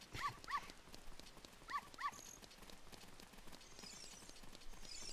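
A dog barks in The Legend of Zelda: Ocarina of Time, a few short yips coming in two quick pairs near the start and again a little later, against quiet game ambience.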